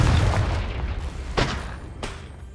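Confringo blasting spell going off in Hogwarts Legacy, a deep rumbling boom that fades, followed by two sharper bursts of impact about half a second apart.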